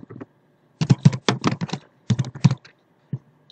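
Number being typed on a computer keyboard: two quick bursts of crisp, close key clicks separated by a short pause, then one final isolated tap, with no talking.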